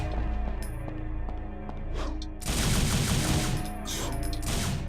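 Gunfire in the Devil May Cry video game, a sustained burst of rapid shots that starts midway and keeps going loud over a busy game soundtrack.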